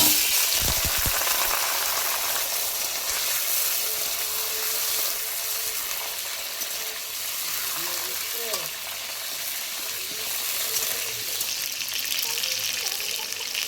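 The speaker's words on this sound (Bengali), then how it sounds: "তেলটা কিন্তু আমার ভালোভাবে গরম হয়ে গেছে। এবার আমি আলুগুলো দিয়ে দেব।" Potatoes frying in plenty of hot oil give a loud, steady sizzle close by, with a brief clatter as they go in at the start, and no voices.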